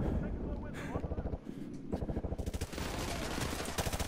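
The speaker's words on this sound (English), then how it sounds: "Who's shooting out these windows?" Heavy, continuous automatic gunfire in Modern Warfare 2 Remastered, rapid bursts of rifle fire overlapping in a dense, loud barrage with brief gaps, blended with game ambience and battle noise.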